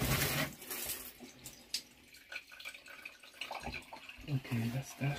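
A caravan water tap runs with a splashing, hissing flow into a sink, fairly quiet and close, with a few clunks and brief voice sounds mixed in.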